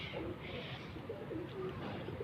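Soft, low pigeon coos repeat several times over a constant background hum in a pigeon loft in Lahore, with no talking.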